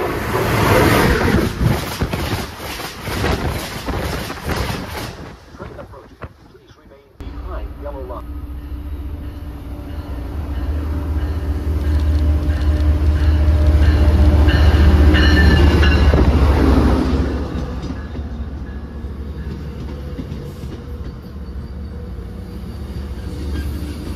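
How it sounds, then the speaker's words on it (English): At Mansfield station in Massachusetts, a train arrives with a deep rumble that swells to a loud roar midway and then eases off, with faint wheel squeal and crackling background noise around it. "Train approaching. Please remain behind yellow line."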